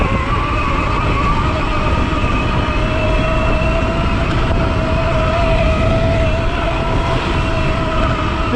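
A Zero dirt bike fitted with a 5kW Golden Motor electric motor runs at full throttle, giving a loud, steady high-pitched whine with constant rushing wind and drivetrain noise, close and unbroken throughout.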